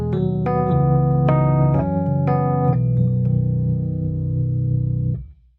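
Keyscape's Classic Suitcase Rhodes electric piano plays sustained chords with tremolo, warm bell-like tones shifting through a short progression before fading out at the end.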